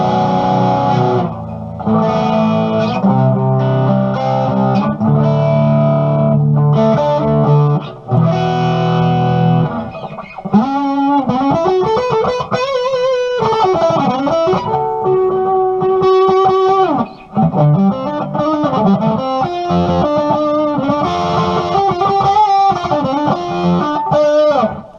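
An electric guitar, a Chinese Gibson copy, plays with light overdrive on a bright bridge pickup, chords first and then a string of single notes and bends, loud and alone.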